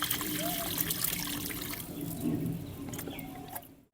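Water poured to the brim of a twelve-inch plant pot makes a soft, steady trickle and splash that fades out at the end, with faint speech nearby.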